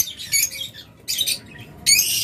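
Blue opaline budgerigars kept as pets for sale, squawking and chirping in three shrill, close bursts over a low background hum.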